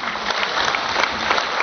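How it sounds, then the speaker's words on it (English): Steady, dense applause from a seated audience at an oath-taking ceremony for real estate practitioners, filling the whole short stretch at an even, moderately loud level with no voices over it. "You'll be probably give your wholehearted round of applause to Miss Emily Bobet Uwano and Dios Coro Jun"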